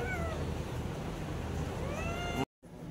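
A domestic cat meows several times, close and loud, with rising and falling cries over steady background noise. A brief dropout near the end cuts the sound.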